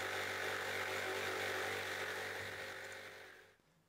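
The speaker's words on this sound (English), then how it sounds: "I chopped back as far as I could to the line using the Faithfull jigsaw" A Faithfull jigsaw cuts through walnut waste toward a marked line, a close buzzing saw drone that holds steady and then winds down and stops near the end.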